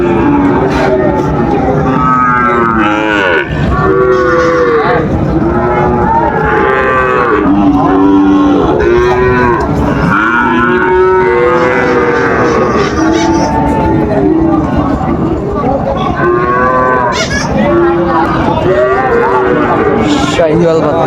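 Sahiwal bull calves moo loudly and often, close by, at a busy cattle market in Dinajpur, with crowd chatter and voices underneath.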